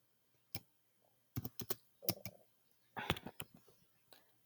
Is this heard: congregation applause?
no